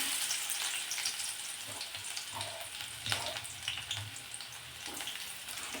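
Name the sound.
chopped onion frying in oil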